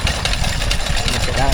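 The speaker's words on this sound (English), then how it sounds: "Here's a Ruston Hornsby powering an Atlas grinding mill." A Ruston Hornsby stationary engine drives an Atlas grinding mill at a show, chugging steadily and loudly close by in a fast, even rhythm with mechanical clatter, while people talk over it.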